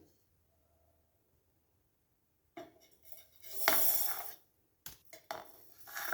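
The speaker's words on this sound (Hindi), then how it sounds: "ये तिल ठंडे हो चुके हैं, अब इनको मिक्सी के जार में डालेंगे।" After a silent start, cooled sesame seeds pour and rattle into a hard mixer jar in a few bursts, close and crisp, with brief pauses between.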